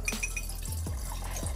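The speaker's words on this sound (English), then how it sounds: "give it a nice mix and pour that into our" A batch of mixed Manhattan cocktail (scotch, bitters) poured into a bottle, a close liquid gurgle and splash with a rising fill tone and a couple of glassy clinks, no talking.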